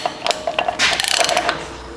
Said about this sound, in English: So then we'll just take and spin that inner nut in.